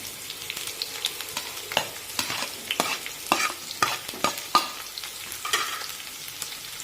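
Thinly sliced onions frying in a pan and stirred repeatedly, a soft sizzle broken by frequent scraping strokes of a spatula at an uneven rhythm, close by and without talk.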